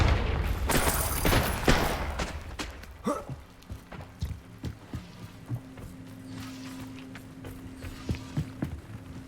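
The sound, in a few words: Confringo spell blast in the Hogwarts Legacy video game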